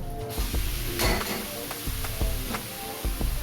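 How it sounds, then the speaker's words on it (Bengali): Taro leaves are stir-fried with spices in a kadai for a prawn and taro-leaf dish. A steady frying sizzle runs under repeated close scrapes and clinks of a spatula against the pan, with no voices. "এবার আমি কচু শাকটা দিয়ে দেব।"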